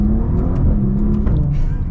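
A 2023 Maserati Ghibli Modena sedan's engine revs hard and climbs in pitch as it accelerates, loud and close, with a steady throaty roar throughout.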